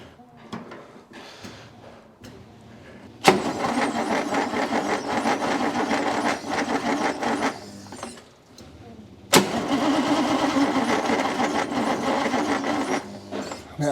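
A 1962 Rover P4 engine cranks without catching, in two long bursts of steady mechanical churning after a quieter stretch of fiddling. The cranking runs close and loud, each burst ending abruptly.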